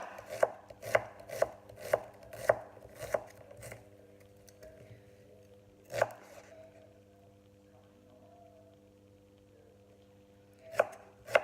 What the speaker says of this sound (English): So I'm just chopping up my shallots.